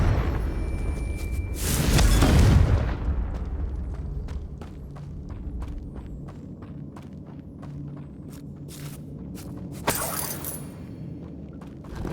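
A Confringo fire spell from Hogwarts Legacy bursts with a loud, heavy boom and crackling debris near the start, then settles into scattered footsteps and small impacts, ending with a second sharp crack and rumble.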